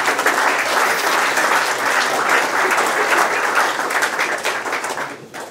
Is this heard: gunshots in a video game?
no